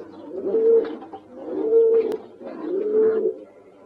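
Spanish pouter pigeons coo in three steady, rolling bouts, each swelling and fading at close range with no voices.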